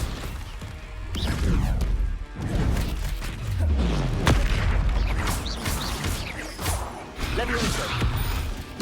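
Confringo and Expelliarmus spell blasts in Hogwarts Legacy: a steady run of crashing booms and whooshing impacts, loud and close, with voices calling out over the combat.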